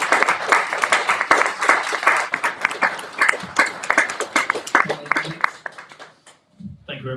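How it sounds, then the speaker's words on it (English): A conference audience at a tech forum in Zürich applauds a panel, loud dense clapping that thins out before a voice speaks at the end. "So, big round of applause for all of you."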